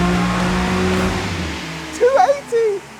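A sports car engine roars at high revs on a dyno, then drops away as voices break in with short excited shouts.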